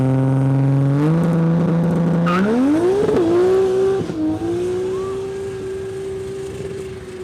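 Drag racing cars launch on a no-prep airstrip at a street drags event, a loud engine note held steady then climbing sharply in pitch as it accelerates and settles into a sustained high rev, close and continuous.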